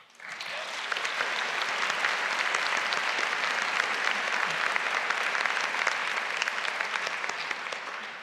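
Applause at a university degree ceremony for Open University graduates in Newport: a dense, steady wash of many hands clapping throughout a large hall. It swells in quickly and holds evenly without voices over it.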